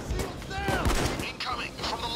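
Gunfire in the heist shooter Payday 2, a dense, continuous exchange of overlapping shots with game sound effects, and a voice talking over it.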